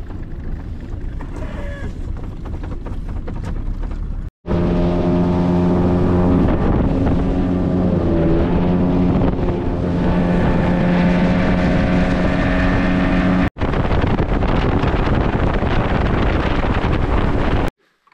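A motorboat engine drones steadily on a river trip in the Bodaibo district of Irkutsk region, loud and close, with heavy wind buffeting the microphone and a couple of brief cutouts.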